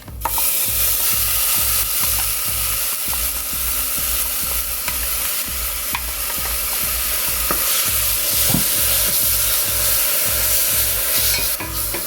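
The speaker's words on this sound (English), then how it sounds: "The onion and garlic has turned golden brown. I'm going to add this broccoli stem puree." Broccoli stem puree going into a pan of golden-browned onion and garlic, a loud steady sizzle with repeated rhythmic stirring scrapes throughout, close and without voices.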